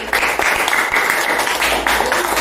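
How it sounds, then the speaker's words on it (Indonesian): Classroom applause for a student: a short burst of dense, overlapping clapping from a group of pupils that continues steadily throughout, with a faint murmur underneath. "Kita berikan tepuk tangan ke Anggi."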